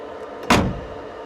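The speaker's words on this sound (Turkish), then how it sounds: "Arkadaşlar kapı seslerine şöyle bir yakından bakalım." A single solid car door thunks shut on a Regal Raptor K5 electric van, one short close-up slam standing alone against quiet surroundings.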